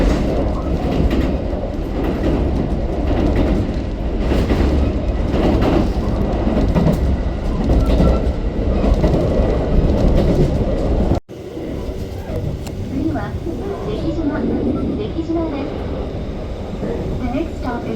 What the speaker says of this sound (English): do you just want some nice POV footage of traveling by train?